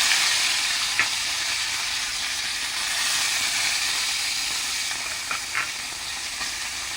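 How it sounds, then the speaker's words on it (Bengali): Fish frying one by one in hot mustard oil in a wok gives a loud, continuous sizzle and hiss throughout, with a few faint clinks, and no voices. "এবার মাছগুলো এক এক করে ভেজে নেব"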